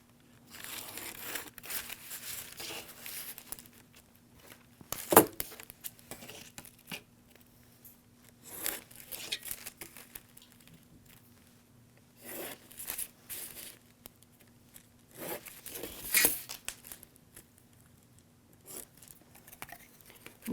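A paper collar pattern being cut out, heard as intermittent crisp crinkling, snipping and rustling in irregular bursts over a low steady hum, close and fairly quiet, with no talking.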